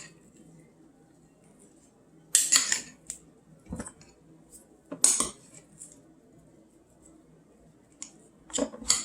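A cheese and dill mixture is worked in a bowl with utensils, giving sparse, close metallic clinks and scrapes in separate bursts with quiet gaps between them.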